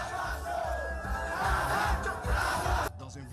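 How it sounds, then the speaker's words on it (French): Supporters of presidential candidate Pascal Affi N'Guessan crowd around him at a 2015 election rally in Côte d'Ivoire, cheering and chanting in a dense, loud roar with rhythmic pulses before it cuts off abruptly near the end. "Dans un véritable tintamarre de bruit et de chants"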